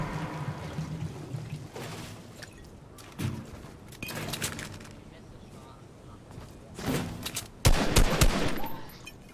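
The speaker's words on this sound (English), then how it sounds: "I'm trying to shoot it out of your hands." Gunfire in a Minecraft island world: scattered shots and short rapid bursts ring out over a low background, with a louder cluster of shots near the end.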